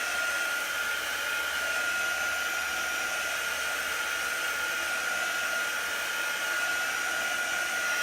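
A heat tool blows steadily and loudly at close range to set chalk paste on a board, its continuous whirring hiss running unbroken throughout with no talking.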